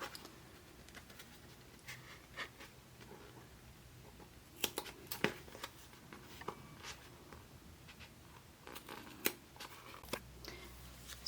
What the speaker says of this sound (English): And then I'm going to get the rest with my scissors.